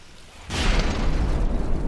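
AP fragmentation shells hitting wooden targets in a naval combat video game, a sudden loud burst of impacts that swells into a sustained, rumbling barrage of crackling hits.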